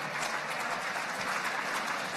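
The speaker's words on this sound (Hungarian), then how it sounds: "Még egyszer egy nagy tapsot hagy kérjek ennek a kategóriának" Brief steady applause from the audience at a nature photography awards ceremony, an even wash of clapping with no voices over it.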